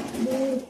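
Domestic pigeons, muffed and grouse-legged fancy breeds kept in a loft, give a soft low coo with a brief tonal rise, close by and fairly quiet over a faint background.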